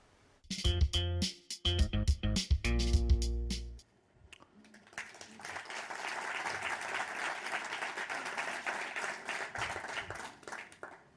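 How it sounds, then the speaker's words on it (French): Audience at an award ceremony for the Trophée RSE 2015, governance category, given to Expanscience, breaking into sustained, even applause after a few sharp sounds, the clapping holding steady and fairly close until the end. "Les applaudissements ne sont pas usurpés."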